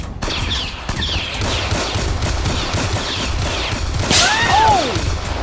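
Rapid bursts of Roblox video game gunfire crackle over a steady noisy background, loud and dense throughout, followed by a brief whooshing effect near the end.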